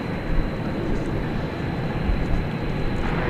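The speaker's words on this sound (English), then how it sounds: "Turkish Airways Dreamliner. There it is there." A Turkish Airlines Boeing Dreamliner rumbles at night at DFW Airport, a steady low jet roar carried from a distance with a faint high whine.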